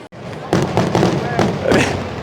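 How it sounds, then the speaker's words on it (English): Fireworks burst in quick succession at a night drag racing event at Keystone Raceway, a rapid series of loud crackling booms and pops after a brief quiet start, with people talking underneath. "we're gonna have some fireworks now"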